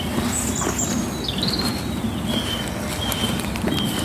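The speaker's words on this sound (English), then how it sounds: "Don't know if you can hear the rain." Rain pattering steadily through the tree canopy of a bluebell woodland on a muddy morning, a dense continuous patter with birds chirping and calling intermittently in the distance.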